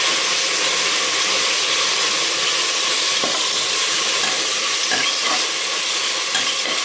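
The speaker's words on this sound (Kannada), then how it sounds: "1 ಹಿಡಿಯಷ್ಟು ಪುದೀನ ಸೊಪ್ಪು ತೊಳೆದು ಇಟ್ಕೊಂಡಿರೋಂಥದ್ದನ್ನ ಆ್ಯಡ್ ಮಾಡ್ಕೊಳ್ಳೋದು. ಇದನ್ನು ಮಿಕ್ಸ್ ಮಾಡ್ಕೊಂಡ್ಬಿಡ್ತೀನಿ ಚೆನ್ನಾಗಿ" A handful of mint leaves is stirred into a hot frying pan, giving a loud, steady sizzle with a few faint scraping clicks from the spoon.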